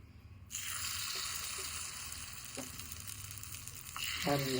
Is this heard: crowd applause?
no